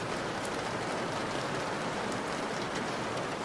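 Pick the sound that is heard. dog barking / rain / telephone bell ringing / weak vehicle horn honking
rain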